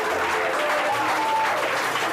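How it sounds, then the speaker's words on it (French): Church congregation breaking into sustained applause and acclamation, a steady wash of clapping from a crowd with some voices mixed in, filling the room at even loudness throughout. "Est-ce qu'on peut donner une acclamation à Jésus?"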